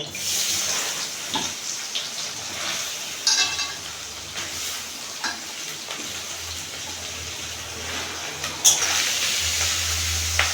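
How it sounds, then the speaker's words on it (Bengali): Whole boro fish dropped together into hot mustard oil set off a sudden rush of sizzling, with steady frying hiss and a few bursts and spatters close by. "তেল গরম হয়ে গেছে এখন আমি মাছগুলি সব একসঙ্গে দিয়ে দেব"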